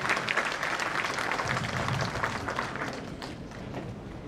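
Hearty applause from the audience at a railway week award function honouring the chief guest, a dense continuous clatter of many hands, loud and unbroken with no voices over it.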